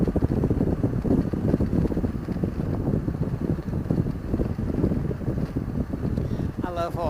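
Heavy wind buffets a rider on a Honda Goldwing motorcycle with the windshield left slightly open, a loud continuous roar with a faint voice-like bit at the end.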